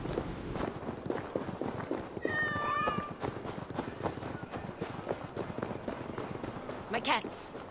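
A cat meows briefly in a Viking Age settlement in Assassin's Creed Valhalla Discovery Tour, a short rising cry standing out over footsteps and steady background ambience, with a second faint call later and voices talking nearby.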